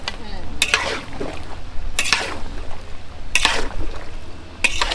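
A spoon scrapes around a pot of frying meat for kala bhuna in four slow, evenly spaced strokes over a soft bubbling background of food cooking.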